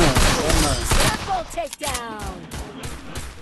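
Rapid gunfire from a shooting video game, sharp repeated bursts of shots close and loud, with voices talking over the gameplay.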